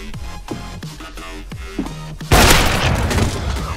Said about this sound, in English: Well, time bomb.